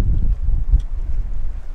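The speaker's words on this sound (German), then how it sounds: "Ist mega windig." Strong wind buffets the microphone on open water during a perch fishing trip from a boat, a steady low roar and rumble with gusty surges, no talking heard.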